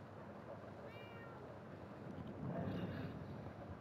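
A cat meows faintly in the Murdered: Soul Suspect video game, one short thin call heard over steady wind and ambient game noise, with a louder rush of background sound swelling later.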